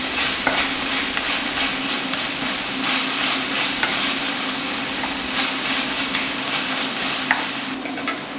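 Boiling water is stirred into a beef extract stock for a beef ragu, giving a steady, loud hiss and bubbling with soft scraping and swirling throughout and no talk.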